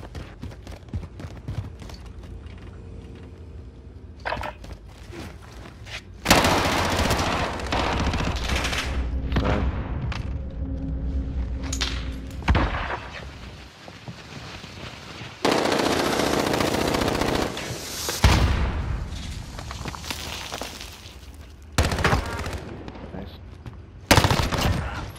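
Sustained bursts of automatic gunfire in a video game gunfight, long rattling volleys alternating with quieter gaps and occasional booms, with players talking over the action.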